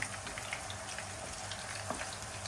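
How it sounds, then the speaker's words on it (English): Chicken kofta sizzles steadily in a pan over a medium flame, a soft continuous crackle with scattered pops, fairly quiet and without talk. "Let it fry for a while."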